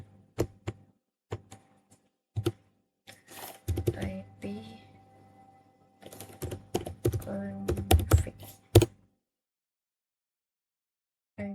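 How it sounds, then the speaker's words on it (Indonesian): Typing on a computer keyboard at a command line: sparse single keystrokes, then quick bursts of clattering keys with pauses between, close and fairly quiet, with soft mumbled speech mixed in. "Kita akan ketik ipconfig di CLI nya"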